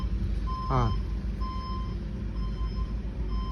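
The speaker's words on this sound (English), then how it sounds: "this goddamn truck's so noisy" A noisy truck reverses, its warning beeper sounding in short evenly spaced beeps over a constant low engine rumble, with a brief rising whine near the start.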